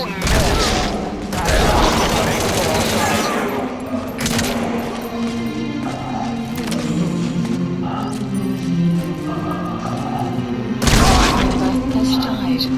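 Bursts of gunfire from Metal Gear Solid V The Phantom Pain crackle in rapid volleys with heavy thumps and booms, loud and up close, mixed with shouted in-game voices and mechanical clatter.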